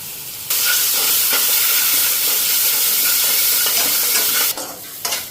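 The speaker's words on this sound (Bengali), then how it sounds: "মশলা দিয়ে দিই, লঙ্কার গুঁড়া, হলুদ আর লবণ।" Chili powder, turmeric and salt hit hot oil with black cumin seeds in a pan, setting off a loud, steady, close sizzle that holds for several seconds before easing off.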